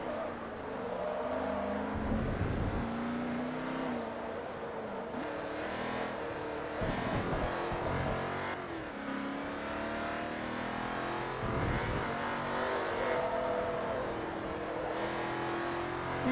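A race car in Forza Motorsport 3 accelerates repeatedly, its engine rising through revs, dropping at gear changes and climbing again in a loud, continuous run of surging whines.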